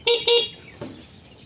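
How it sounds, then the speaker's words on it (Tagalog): An e-bike horn honks twice in quick, loud, close bursts, followed by a faint click and quiet. "Ayan, busina."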